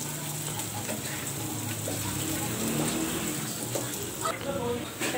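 Shredded cabbage and onions frying in a pan, a steady crackling sizzle with light ticking and stirring throughout, with a voice heard at times.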